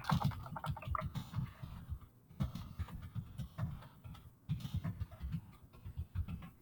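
Typing on a computer keyboard, quiet close key taps in quick irregular bursts with short pauses between words, alone without talk.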